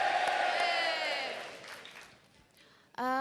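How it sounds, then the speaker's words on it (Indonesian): Audience applause and cheering at a leadership seminar, a loud burst of voices and clapping that gradually fades over a few seconds before a voice starts talking. "Tepuk tangan sungguh-sungguh kasih suara, yeay!"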